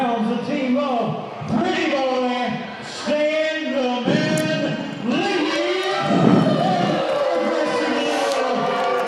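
A wrestling crowd jeers a wrestler in a progressive liberal gimmick wearing a Hillary Clinton shirt, a roaring mass of voices that rises and falls in waves, with an announcer's voice running over it.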